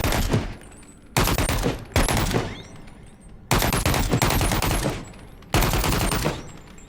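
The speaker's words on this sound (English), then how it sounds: "Aim down range and fire." Pistol shots ring out in a video game as about six sharp, loud, separate reports spaced irregularly, each followed by a short decaying tail.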